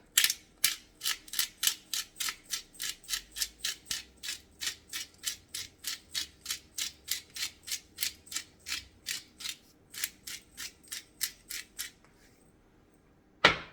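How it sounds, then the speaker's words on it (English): A hand pepper grinder cracks black peppercorns in a quick, even series of sharp ratcheting clicks, about three per second, close and clear, ending with a pause and one last click. "I'm gonna take some black peppercorns and I'm gonna just grind it."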